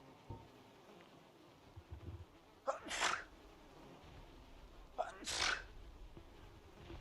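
Two sharp sneezes, a few seconds apart, sound over a quiet hiss of background noise while playing Dark Souls: Remastered, with faint murmuring in between.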